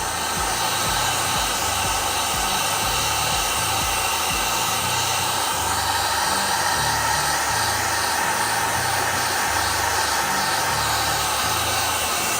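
A heat gun blows a steady, loud, unbroken rush of hot air onto faded plastic car trim, the whooshing constant throughout with no talking.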